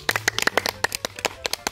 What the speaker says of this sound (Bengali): জোরে একটা হাতের তালি।